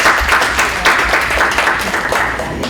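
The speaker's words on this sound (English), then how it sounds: "So you mind giving both a round of applause?" Steady, dense applause from a conference audience at the 2019 Western PA LGBTQA Conference, sustained at an even level for the full stretch with no voices breaking through.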